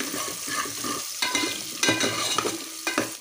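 Chopped onions frying in a pan, a dense sizzle broken by several sharp scrapes and clinks of a spatula as they are stirred, close and fairly loud, no voices.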